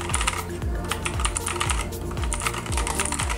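Rapid typing on a Razer BlackWidow V3 mechanical keyboard, a dense, steady stream of loud, close clicky keystrokes with no talking.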